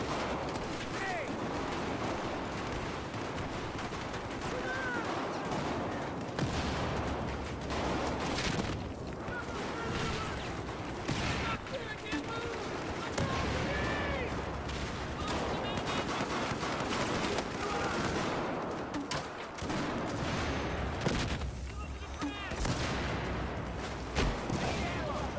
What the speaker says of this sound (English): How many grenades they throwing?